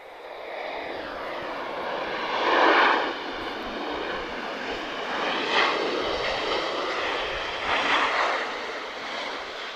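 A Ryanair Boeing 737 jet airliner arrives at Lisbon Airport, its loud continuous engine roar swelling and easing in several surges over the whole stretch, heard with no talk.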